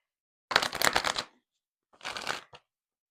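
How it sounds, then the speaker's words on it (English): Guidance cards being shuffled close by in two quick riffling bursts, the second shorter and ending in a small tap, with silence around them. "I'm going to pull some guidance cards here on bringing forth what's next"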